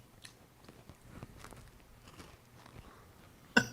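Crunchy homemade butter cookie bitten and chewed up close, a series of soft crunching bites across a few seconds, ending in one sharper, louder crunch.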